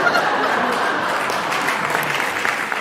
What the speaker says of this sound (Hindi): आपने मेरे स्वागत में जो जोरदार ताली बजाई है